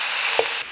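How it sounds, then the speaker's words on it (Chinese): Chicken stir-frying in a wok, a dense close sizzle with a brief stirring clack partway through, loud and steady over a short moment. "把鸡肉炒一炒"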